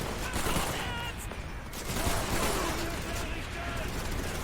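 Dense, continuous gunfire from the video game Call of Duty 3: a rapid, loose rattle of shots that blurs into a steady roar of battle noise and swells slightly midway.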